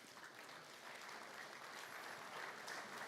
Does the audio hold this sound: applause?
yes